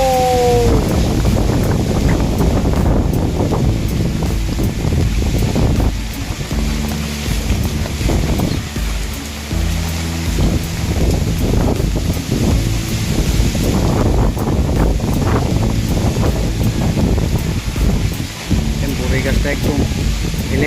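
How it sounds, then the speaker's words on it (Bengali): Strong, roaring cyclone wind, with rain, buffets the microphone continuously, with gusting surges and voices shouting intermittently beneath it. "বৃষ্টি বাতাস প্রচণ্ড বাতাস"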